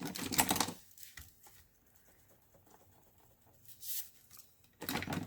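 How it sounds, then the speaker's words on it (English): A pencil eraser rubs pencil measurements off a paper flower-pot easel card, with a few close bursts of brisk scrubbing separated by quiet pauses, no talking. "let me erase off my measurements here."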